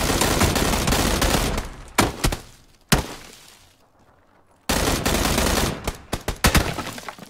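Gunfire in the battle game PUBG: loud bursts and sharp single shots cracking out in clusters, with a quiet lull in the middle before another dense volley, no talking.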